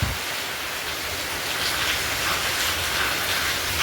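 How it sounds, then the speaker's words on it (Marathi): Heavy rain and wind lash the outside of a house in Goa during the season's first downpour, a steady, dense roar that holds evenly from start to finish with no voices. "बाहेर किती पाऊस पडत आहे"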